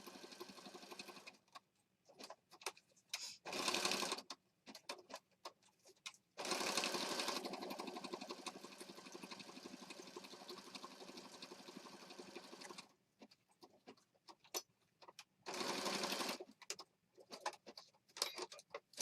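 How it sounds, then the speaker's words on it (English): Sewing machine stitching a junk journal, several bursts of rapid mechanical whirring separated by pauses, one long run in the middle, heard close but at low level. "I'm going to go to the sewing machine."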